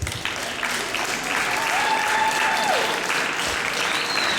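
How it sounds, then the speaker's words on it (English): An audience applauds steadily at a convention Q&A, a dense wash of clapping from a crowd that swells slightly and holds at a lively level throughout. "so give yourself a round of applause"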